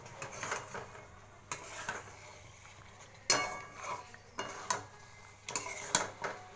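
Metal pot clatter while cooking Punjabi aloo dum with methi, including a lid being lifted off: several sharp clanks and scrapes at irregular intervals over a low, steady kitchen hum, fairly close, with no voices.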